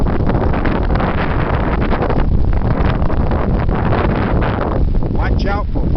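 Heavy wind blows hard and steadily along the Spartan trail, roaring constantly into the microphone at close range with buffeting gusts, and a brief whistling tone rises near the end.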